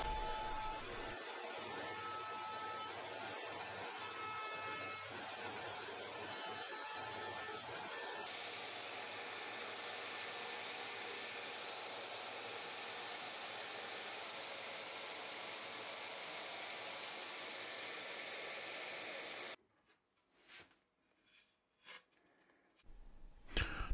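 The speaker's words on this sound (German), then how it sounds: "Nun fräse ich das Gegenstück aus Ahorn." A Shaper Origin handheld router mills maple finger joints, giving a loud, steady high-pitched whine with a change in tone partway through. It then cuts off into quieter intermittent bumps and handling noise.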